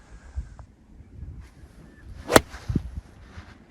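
A golf pitch shot on a par-3 hole into the wind at Ploemeur, one sharp swish and crack of the club striking the ball, close and loud amid quiet outdoor ambience.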